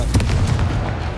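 Spell-blast explosions from the Confringo fire spell in the video game Hogwarts Legacy, a dense, loud rumbling burst of booms with sharp pops near the start, filling the whole clip.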